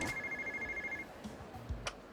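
Personal bag phone ringing in the Yakuza 0 video game, an electronic trill pulsing rapidly for about a second and then stopping, followed by faint clicks and game noise.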